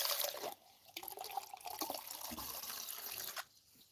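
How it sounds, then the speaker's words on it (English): Water poured for drinking, likely from a tap, a close, trickling and splashing flow that starts about half a second in and runs steadily before cutting off near the end, leaving quieter room noise. "Get myself some water."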